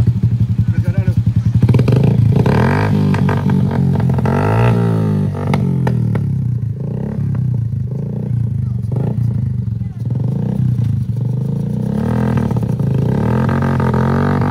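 Motorcycle coming up from behind on a wet mountain road in Pessel–Solok after rain, a loud, close engine with rough revving and shifting pitch, mixed with clatter and background voices.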